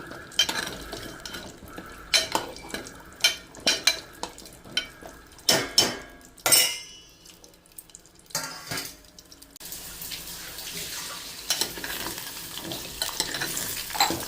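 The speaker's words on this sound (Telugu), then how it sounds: "చూడండి ఇవి కూడా వేగుతున్నాయి" Amla pickle ingredients fry in a pan at home, with steady sizzling under repeated scraping and stirring clinks from a utensil, some loud near strikes early, then a continuous bright hiss of frying to the end.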